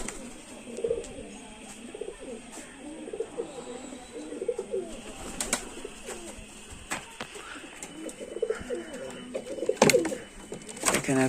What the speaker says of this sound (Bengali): তো এখানে দুটো লক্ষা পায়রা আছে।